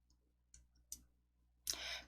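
Single mouse clicks while working in PowerPoint on a computer, a few faint, sharp ticks spaced apart and then a brief louder click, quiet and close with no talking.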